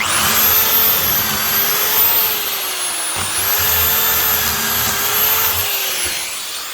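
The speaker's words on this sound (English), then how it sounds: "Gonna screw it down, start drilling to make our pocket holes." A steady, high-pitched power drill whine runs continuously while drilling pocket holes with a pocket hole jig, dipping briefly in the middle before spinning back up, loud and close.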